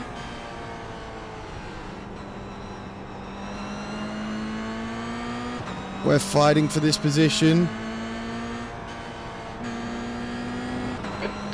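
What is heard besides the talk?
race car engines in iRacing video game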